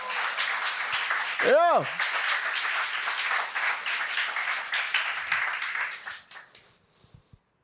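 A church congregation breaks into sustained applause, dense and even, with a single shouted exclamation early on, fading out toward the end.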